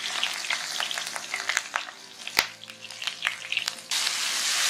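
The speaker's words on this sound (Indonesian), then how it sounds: "Kita tumis ya dengan menggunakan api sedang" Spice paste sautéed in about five tablespoons of cooking oil over medium heat for green chili fried vermicelli, sizzling continuously and close up, with stirring scrapes and clicks; the frying grows louder and steadier near the end.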